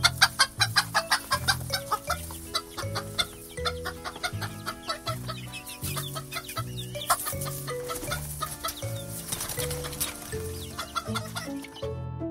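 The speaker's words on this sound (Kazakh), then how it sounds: "Мынау тауық." A chicken clucks in short repeated bursts over a steady, rhythmic music backing with a pulsing beat, clear and close throughout.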